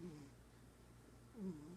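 Two short, low, throaty grunts from a house cat, one at the start and one near the end, faint and close with quiet between them.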